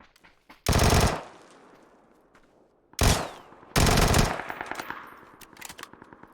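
A Vector submachine gun in a video game fires three loud rapid bursts, the last trailing into scattered shots and rattling, with quiet gaps between.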